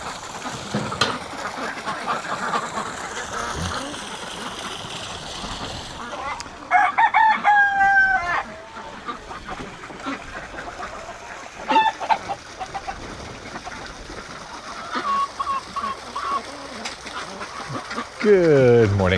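Chickens cluck and a rooster crows at a farm coop on a rainy morning, bursts of crowing and clucking close by over a soft, continuous background.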